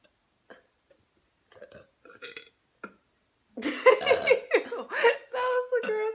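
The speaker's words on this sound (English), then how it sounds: "That was the grossest burp ever." A woman burps loudly several times in a row, the longer wet, foamy-sounding burps coming after quieter scattered sounds, close to the mic, with some laughter mixed in.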